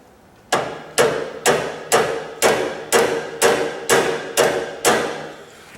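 Ten sharp hammer strikes ring out on metal at a steady, even pace, knocking out a small metal center piece for a tractor foot throttle, each blow loud and close with a brief metallic decay.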